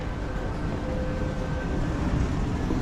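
Steady rumbling interior of a moving train in Hong Kong, a continuous close low roar with faint tonal hums and no talk over it.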